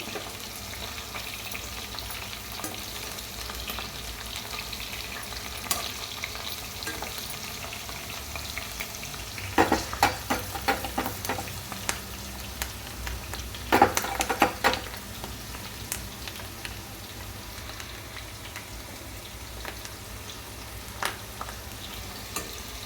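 Ivy gourd (dondakay) pieces frying in hot oil give a steady, even sizzle throughout, with a few louder bursts of crackling and spatter midway and near the end.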